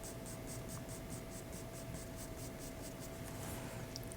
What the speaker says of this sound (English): I'll go ahead and draw these striations again